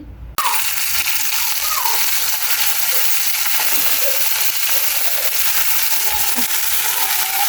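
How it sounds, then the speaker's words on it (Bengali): Fish frying in hot oil on a home kitchen stove, a steady, close, loud sizzle that starts abruptly and runs unbroken, with faint clinks of stirring and no talking. "মাছ ভাজা হয়ে গেছে এই তো মাছটাকে আমি ভেজে নিয়েছি"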